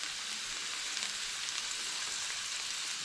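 Chopped onions frying in olive oil in a pan, a steady close hiss and crackle of sizzling that continues evenly without talk.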